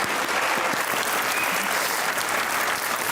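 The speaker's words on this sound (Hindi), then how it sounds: "तालियां" Studio audience at a Pakistani comedy talk show with cricketer Fawad Alam and tennis player Aisam ul Haq breaks into steady, dense applause, a continuous close wash of clapping with no voices on top.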